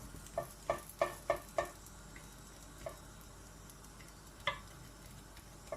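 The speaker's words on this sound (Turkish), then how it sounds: "közlemimiz gördüğünüz gibi şişmeye başladı. Nar gibi de kızaracak." Gözleme fries and puffs up in a pan under a steady low sizzle, punctuated by a quick run of five sharp crackles or pops, then a few scattered ones.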